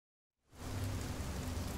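Steady rain begins abruptly and falls continuously in the video game Fears To Fathom: Iron Bark Lookout, a dense broadband hiss with low rumbling underneath, fairly close and alone.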